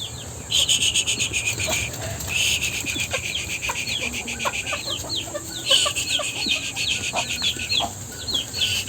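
Chicks chirp in quick, repeated high peeps, fairly close and lively, alongside occasional clucking fowl and a constant background of insects or crickets outdoors.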